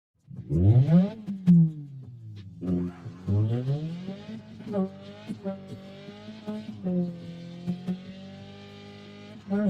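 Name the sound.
car drifting and tire squeal in the video game Drift Racing 3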